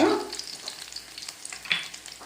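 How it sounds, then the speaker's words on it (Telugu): Urad dal and garlic cloves fry in hot oil for a guava chutney, giving a bright, close crackling sizzle with small pops throughout. "ఇలా మినపప్పు వెల్లుల్లి వేసి ఫ్రై చేసుకున్నాక"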